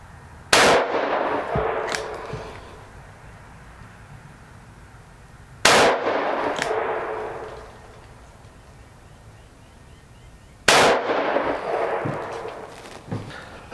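Three loud, sharp gunshots from a Taurus Tracker 627 seven-shot .357/.38 revolver, spaced about five seconds apart, each a close crack followed by a long fading outdoor echo.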